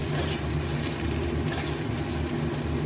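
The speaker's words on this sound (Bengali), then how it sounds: "এবার বেগুনগুলো দিয়ে দেবো, একটু নাড়িয়ে চাড়িয়ে নিই" Eggplant pieces sizzle and fry steadily in a pan while being stirred, a continuous close hiss with faint scraping, no voices.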